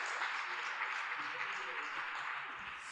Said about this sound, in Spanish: Aplausos para estas voluntarias súper comprometidas.